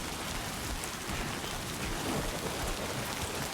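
Steady rain in the video game Death Stranding 2: On the Beach, a dense, even hiss of falling water that holds constant throughout with no voices over it.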